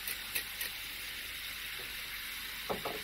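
Food cooks and browns with cracked pepper in a vintage Griswold cast iron pan for shepherd's pie, giving a faint, steady sizzle with a few soft clicks.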